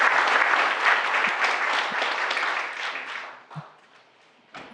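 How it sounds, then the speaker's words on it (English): An audience at an arts ceremony applauds students, a dense burst of clapping that thins and fades out over several seconds, with a few last claps at the end. "One more round of applause for those exceptional students."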